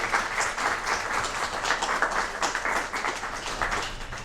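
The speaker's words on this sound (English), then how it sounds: "Can we give parents a big round of applause?" An audience at a youth poet laureate commencement ceremony applauds the parents, a full, steady round of clapping lasting several seconds with individual claps audible in the mix.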